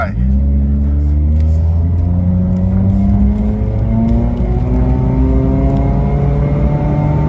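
A Honda Brio with an automatic gearbox and an E85 tune accelerates hard from inside the cabin, its engine rising steadily in pitch through the gears with a loud continuous drone.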